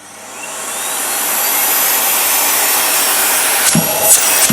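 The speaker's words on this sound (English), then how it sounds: "I'm going to turn it on maximum now before I end the video, just to see if it's got any soft start feature." A Miele S380 vacuum cleaner is switched on at maximum power and swells gradually through a soft start into a loud, steady, close whooshing roar, with a brief rattle near the end.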